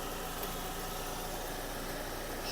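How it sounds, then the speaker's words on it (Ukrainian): A Skoda Octavia engine with 110,000 km on it idles steadily at close range, a constant low rumble with no talking. "робота двигуна."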